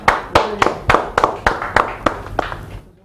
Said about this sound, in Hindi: बहुत तालियां होनी चाहिए।